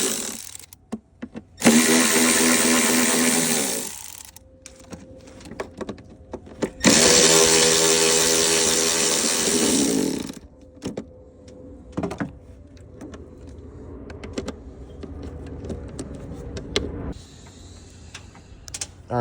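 A power tool spins out 10mm bolts from the engine cover of a 1998 Lexus ES300, with two long, loud whirring bursts followed by clinks, rattles and short tool buzzes nearby.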